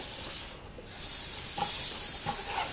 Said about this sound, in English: you can go on the top side and spray like this.